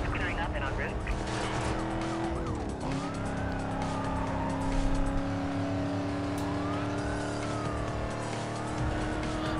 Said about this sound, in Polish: Bardzo fajnie brzmi, ale to i tak jest jeszcze wolny wóz.